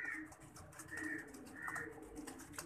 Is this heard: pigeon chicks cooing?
yes